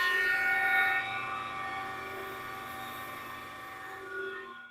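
A benchtop planer feeds a white oak board through, giving a steady, loud mechanical whine with a droning hum that holds for several seconds and eases slightly toward the end, with no talking.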